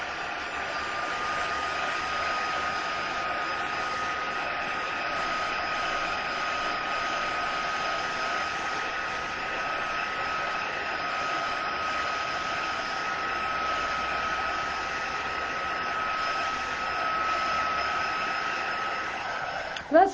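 A hair dryer blows steadily on a freshly painted wooden window box, a constant close whirring drone that holds for about twenty seconds and cuts off with a click at the end.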